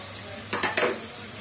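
Tomato paste with salt and chili is stirred and sautéed in hot oil. A soft sizzle runs under a few quick scraping stirs of a spoon in the pan.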